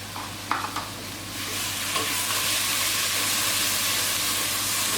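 Vegetables with bay leaf, rosemary and fresh thyme browning in a pot for an oxtail stew, a steady soft sizzle and hiss after a few stirring clinks early on, no voices.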